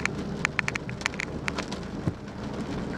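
Rain falls steadily outdoors, a dense hiss with scattered sharp drips and patters close by, continuous and moderately quiet with no voices.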